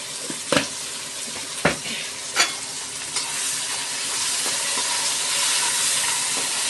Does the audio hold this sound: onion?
yes